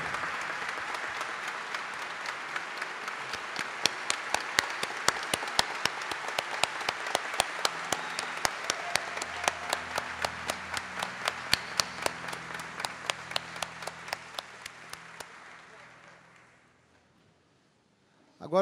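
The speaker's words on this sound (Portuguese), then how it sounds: "eu queria pedir a todos uma salva de palmas para o nosso corpo de bombeiros" Applause for the fire brigade at a formal medal ceremony, a crowd clapping steadily for about fifteen seconds, the sharp claps thinning toward the end before dying out. Faint voices murmur underneath.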